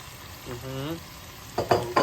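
Chopped onion tossed into a pan of frying meat gives a short burst of crackling sizzle with stirring clatter, after a brief voice-like hum; the sound is fairly quiet and lasts about two seconds.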